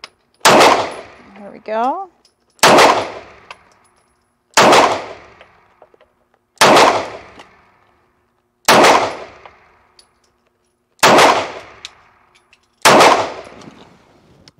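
A Cosaint Arms COS11 fires seven evenly spaced, sharp gunshots, each followed by the metallic clang of a steel target being struck, with a brief spoken remark near the start.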